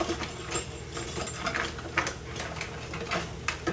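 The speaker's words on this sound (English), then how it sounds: "Just gonna use very thin rubber spatula to grab all the goodness" A thin rubber spatula scraping mushroom soup from a can into a pan, heard as soft, repeated scrapes and light clicks against metal at an irregular pace, close by and fairly quiet.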